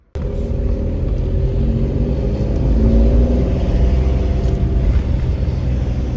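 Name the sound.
car driving off and accelerating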